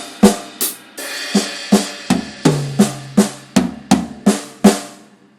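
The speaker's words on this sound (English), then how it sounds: "let's start to move both singles of the paradiddle and just leave the doubles on the snare drum." Paradiddles on a drum kit with the single strokes moved around the toms and cymbals while the double strokes stay on the snare, a brisk, evenly spaced pattern of loud close hits.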